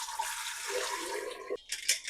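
Potatoes being washed by hand in water, with steady sloshing and trickling splashes, a brief louder splash near the end, close and alone without talk.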